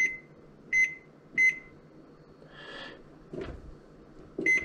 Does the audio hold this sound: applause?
no